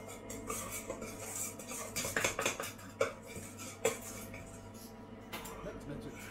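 Cake batter with sugar and baking powder being mixed in a bowl, with irregular clinks and scrapes of a utensil against the dish, a couple of sharper knocks, and a person speaking faintly.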